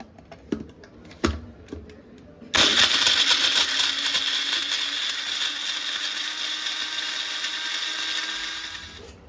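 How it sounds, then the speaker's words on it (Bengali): After a few light clicks and knocks, a kitchen mixer grinder starts up loudly and runs in a continuous high whirring grind, blending pumpkin with salt and water close by. "এবার এটাকে মিক্সি করে নেব।"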